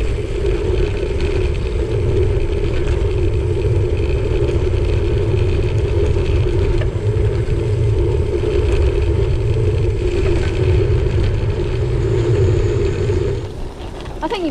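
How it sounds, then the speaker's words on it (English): Bicycle tyres roll steadily over a gravel trail through burned forest, a continuous close crunching rumble that holds even for about thirteen seconds before easing at the end. "it's such a nice noise. Gravel under tyre."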